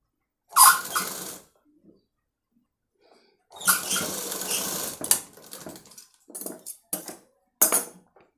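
A sewing machine stitches a crop-top blouse in a tailoring shop in short separate bursts: one brief run, a longer whirring stretch, then several quick clicking spurts with quiet gaps, with no voices.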